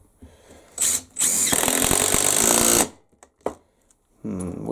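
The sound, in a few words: Makita impact driver on lug nuts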